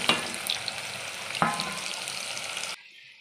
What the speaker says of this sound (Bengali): তেল গরম হয়ে গেছে, এবার আমি কুচনো পেঁয়াজটা দিয়ে দিলাম।